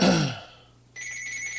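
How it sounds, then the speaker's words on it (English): A telephone ringing during a podcast, a bright electronic tone that sounds once, fades, then starts again, close and clear with no talk over it. "the phone's ringing, sorry, I forgot to turn it off"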